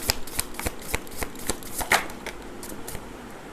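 A deck of tarot cards is shuffled up close, giving a quick run of crisp, fluttering card slaps and riffles over about three seconds before it quiets.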